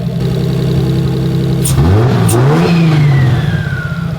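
A turbocharged Lexus IS300 engine, just started for the first time, idles loudly up close, then revs up and down, with a thin turbo whistle rising above the engine note.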